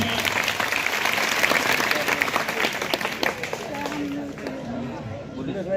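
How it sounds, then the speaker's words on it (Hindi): Schoolchildren and their audience applaud at a Gandhi Jayanti event at Krishak Inter College in Maholi, a dense burst of clapping that tapers off while a voice speaks over it. "तालियां एक बार बच्चों।"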